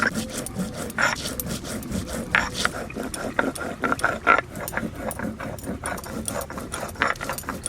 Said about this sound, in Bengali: এখন আমি একটু কাঁচা জিরে বাটবো। কাঁচা জিরে বেটে নিই।